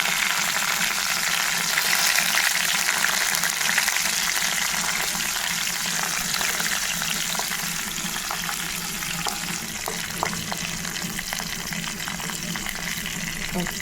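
Dry red chillies, cumin seeds and curry leaves sizzle and fry in hot oil for tomato pickle, a steady loud crackling hiss throughout with occasional stirring, no talking.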